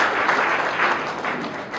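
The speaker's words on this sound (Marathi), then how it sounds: "त्यांच्यासाठी देखील आपण जोरदार टाळ्या वाजवल्या पाहिजे." Applause from an audience at a divisional-level teachers' and officials' event in a hall in Amravati, Maharashtra, a short burst of dense, steady clapping with no one speaking.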